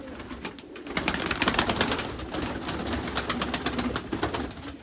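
Pigeons in a coop coo and flutter in a dense, close chorus, with rapid wingbeat rustles and soft calls running throughout at moderate loudness.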